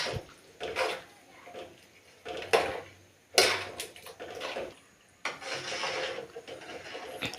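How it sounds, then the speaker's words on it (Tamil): Chicken rasam (country chicken) stirred in a cooking pot, with several separate bursts of spoon scraping and clinking against the metal, broken by short quiet gaps, close and moderately loud with no talk. "நல்லா ஃபுல்லாக இந்த மாதிரி கிளறி விட்டுக்கோங்க"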